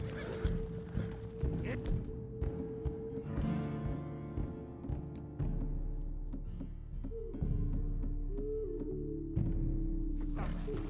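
Horse riding in the video game Red Dead Redemption 2, a steady rhythmic clip-clop of hoofbeats at a gallop with occasional snorts and a whinny, joined by a low rumble as the ride continues.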